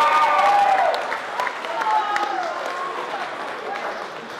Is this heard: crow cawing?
no